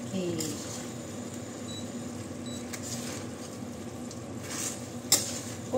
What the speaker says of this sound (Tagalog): kailangan natin ilutuin saglit, pan-fry para gusto kasi nila na na maluto konti yung sibuyas